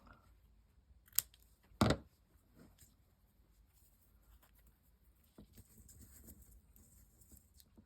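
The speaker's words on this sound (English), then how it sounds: "Scissors." Scissors cut paper during junk-journal crafting with book pages and sari silk: two sharp snips close together, followed by faint rustling and light handling noises in an otherwise quiet room.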